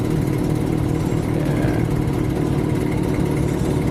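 A motorcycle engine runs steadily in traffic at close range, giving a loud, continuous mid-pitched drone with no speech over it.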